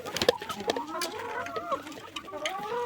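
Backyard chickens clucking softly while feeding, close murmuring calls and short clucks with a few sharp pecking taps.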